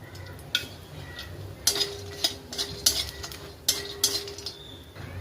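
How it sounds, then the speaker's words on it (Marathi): Cinnamon dry-roasting in a pan with a little oil, stirred with a metal utensil, giving sharp intermittent scrapes and clinks against the pan over a quiet background. "आता मी दालचिनीला थोडंसं तेल टाकते."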